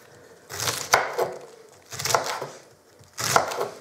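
Knife chopping green onion scapes into small pieces on a board, three separate bursts of quick cuts with sharp knocks, close and clear with no talk.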